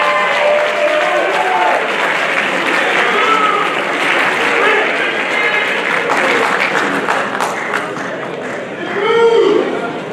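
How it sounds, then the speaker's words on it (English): Applause at a college athletics award show honoring nominees, a broad loud wash of clapping with crowd chatter and a brief voice toward the end. "Let's give them a nice round of applause."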